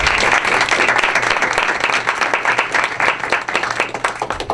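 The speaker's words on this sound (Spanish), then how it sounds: "al cual recibimos con un aplauso, por favor." Steady, fairly loud applause from an audience at a 2014 conference on customs reform, with many hands clapping in a dense, continuous wash that eases slightly toward the end.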